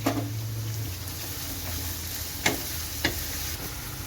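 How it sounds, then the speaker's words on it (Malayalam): Onions sautéing with a pinch of salt in a pan for Kerala-style liver curry, a steady soft sizzle broken by a few sharp spatula taps and scrapes as they are stirred. "ഒരു കാൽ ടീസ്പൂണ് ഉപ്പ് കൂടി ചേർത്ത് നമ്മുടെ സവോളയൊക്കെ ഒന്ന് വഴന്നു വരുന്നിടം വരെ നമുക്കൊന്ന് ഇളക്കി കൊടുക്കാം"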